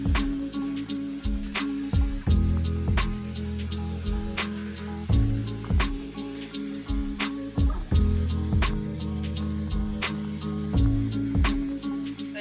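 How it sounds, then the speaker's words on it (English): A Dyson Airwrap blows air onto hair while a Dyson paddle brush works through it, giving a steady whining airflow hiss close up. Brush strokes rub against the hair in a regular rhythm, and no one talks. "I'm just gonna brush my hair at the same time with the Dyson paddle brush as I'm just blow drying"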